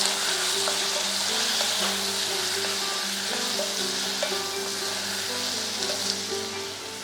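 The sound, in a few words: tomatoes sautéing in oil with curry leaves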